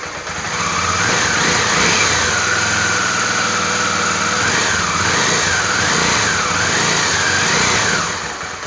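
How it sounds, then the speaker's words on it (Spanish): A Honda Tornado XR 250 motorcycle engine idles steadily up close, a loud continuous single-cylinder putter with a slight wavering in pitch and no talking. "La dejamos regulando un ratito para después sí acelerarla si queremos un poco para que mueva bien el aceite y demás."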